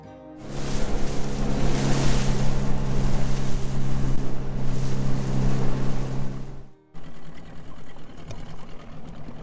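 Steady outboard motor drone of a dinghy running on open water in the North Channel near the Benjamin Islands, close and loud, with water wash; the engine cuts out near the end, leaving choppy water noise.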